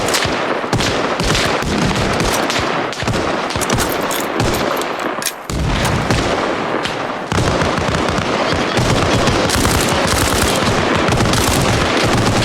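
Dense, continuous gunfire in the military shooter Arma Reforger, with sustained automatic bursts and overlapping shots loud and close throughout, a brief lull in the middle before the barrage resumes.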